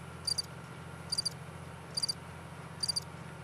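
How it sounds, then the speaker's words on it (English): Crickets chirping in four evenly spaced bursts of rapid trills, each short pulse group faint and clear over a low steady background hum. "So just for Mary, we'll bring in some crickets."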